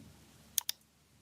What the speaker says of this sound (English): We create the first column by clicking the previously created nodes one by one.